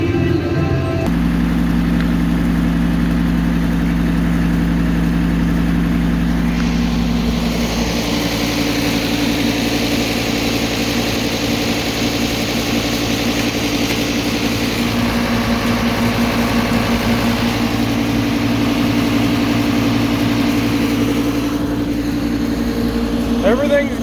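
A hot tractor's engine idling during haymaking, a loud, steady drone that runs without a break and shifts slightly in tone partway through, close to the listener.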